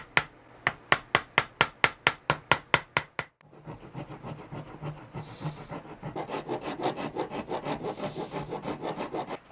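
A rasp files down a clamped wooden guitar neck on a custom build, starting with about a dozen slow, evenly spaced scraping strokes, then a pause and a quicker, steadier run of rough rubbing strokes close by.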